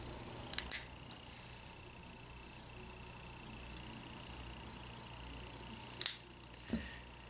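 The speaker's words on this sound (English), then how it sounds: "Obviously, then you want to cut the tag ends off." Scissors snip the tag ends off a fishing line leader for pike tip-up fishing, a quick pair of close, crisp cuts, a long quiet pause, then two or three more snips near the end.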